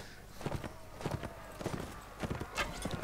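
A horse galloping in the Mount and Blade game, with repeated clip-clop hoofbeats in an uneven rhythm at moderate loudness and a voice talking under it.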